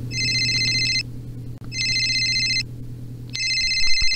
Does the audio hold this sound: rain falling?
no